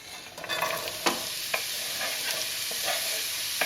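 Coarsely chopped onion sizzles in a pan for chili, a bright continuous crackling hiss with a few sharp clicks of stirring, close by and without talk.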